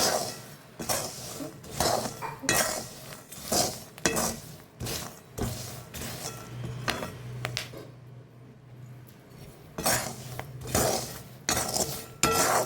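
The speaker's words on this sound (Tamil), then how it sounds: "வேகிற சவுண்டு நல்லா டப்புன்னு சவுண்டு கேட்குது" Peanuts dry-roasting in a pan for a crunchy fry, giving scattered sharp clinks and crackles with a steady low hum underneath, loud and near, with a brief quieter lull midway.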